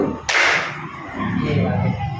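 A single sharp hand clap rings out in a classroom during a clapping exercise, loud and close, followed by quiet room tone.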